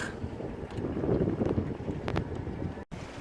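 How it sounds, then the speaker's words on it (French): Wind buffets the microphone in gusts aboard a cruising sailboat near Île d'Yeu, a rough low roar with a brief dropout near the end. "il y a du vent"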